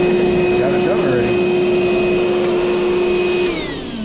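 Vacuum run on its blowing end to clear leftover seed from a seed drill's cups before planting oats, a loud steady roaring whine with a sustained tone that drops in pitch near the end.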